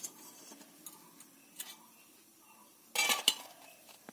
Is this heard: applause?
no